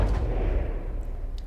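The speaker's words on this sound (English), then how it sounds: "Oh, that explosion says it doesn't matter anyway. Still managing to fire missiles," Weapons and missiles firing in the naval combat game From the Depths, a dense, steady low rumble of blasts and booms filling the whole moment with no voices over it.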